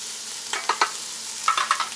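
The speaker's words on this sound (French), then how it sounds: "Le bruit qu'on entend, c'est l'eau, qui me donne une indication très importante." Ratatouille vegetables in a pan as the water cooks off, a soft sizzle with intermittent crackles and several stirring scrapes, close and fairly quiet.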